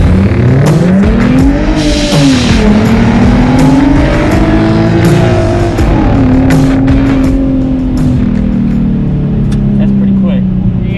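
A supercharged V6 drag Mustang with 4.10 gears launches and accelerates hard, its engine note climbing loud and close with tire noise, then holding a steady high drone for several seconds.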